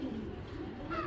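A racer pigeon coos in a brief, soft burst, a low, rounded call that sits near and fairly steady against a faint background, with no talking.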